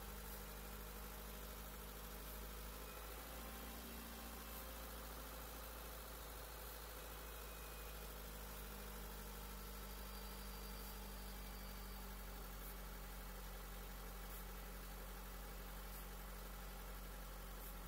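A car engine idles steadily during a head gasket block test, with a low, constant hum and faint vibration, with no voices over the unchanging drone.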